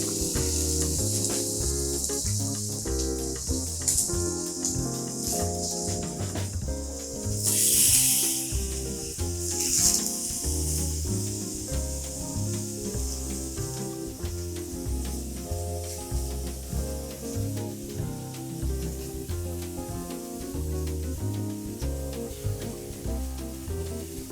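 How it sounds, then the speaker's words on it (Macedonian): Eggplant slices fry in a heated pan, giving a steady, loud sizzle and hiss that runs continuously throughout, with bursts of spitting oil. "Тавата е загреана и одат"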